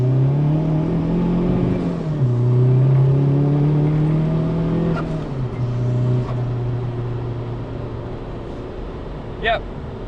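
A Peugeot 306 fitted with a swapped 1.9 TDI PD130 turbo diesel and a big turbo pulls hard, its engine note climbing steadily, dipping at a gear change and rising again, heard from inside the cabin with a voice speaking over it.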